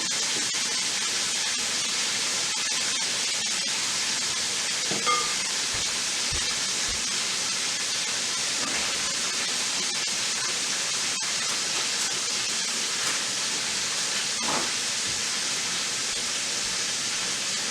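An Instant Pot releasing pressure sends out a steady, loud rush of venting steam that holds at an even, broadband hiss for the whole stretch, with a few faint clicks and no talk.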